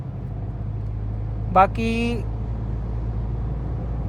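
A Maruti Swift 3-cylinder engine drones low and steady inside the car while driving, a constant hum under road noise, with someone briefly talking partway through.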